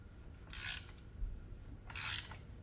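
Ratchet wrench tightening a spark plug on a Honda Accord, two short crisp bursts of rapid clicking about a second and a half apart, fairly close, with quiet between them.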